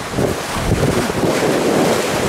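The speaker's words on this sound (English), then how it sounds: "Splashy the water, mate." Strong wind buffets the microphone over waves splashing and surging on a busy beach, a loud, steady rush with no pauses.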